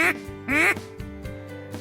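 A duck quacks loudly and close by, two strong quacks followed by several quieter, shorter ones.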